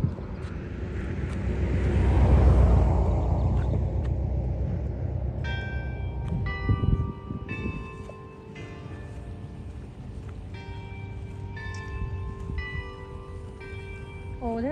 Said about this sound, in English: Oh, that's the bell.